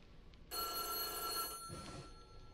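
In the horror video game White Day, a phone rings once, loud and close with a bright metallic trill lasting about a second. A short muffled rustle follows against a quiet ambient background.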